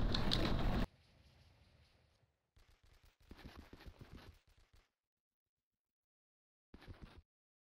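AK rifle gunfire in the video game Blood and Bacon, a loud sustained burst at the start, then several short rattling bursts of automatic fire separated by silences.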